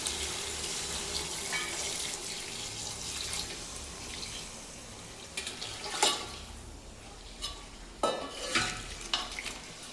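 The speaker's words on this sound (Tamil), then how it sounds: "8 டம்ளர் தண்ணி ஊற்றுறேன்." Water is poured into a pot of chicken for biryani in a home kitchen. It makes a soft, steady splashing stream with a low background wash, and a few louder splashes and clinks come near the end.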